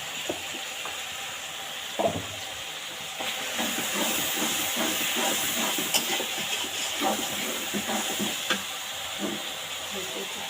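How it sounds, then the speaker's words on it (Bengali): Spice masala with cumin paste fries for a meat curry. A steady hiss of sizzling runs throughout, with scattered spoon scrapes and clicks close by. It grows busier after a few seconds. "জিরা বাটা দেওয়ার পর আরও কিছুক্ষণ কষাবো"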